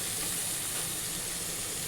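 Spices with Kashmiri chili powder fry in a hot pan, giving a steady, soft hiss and sizzle that stays even and close without a break.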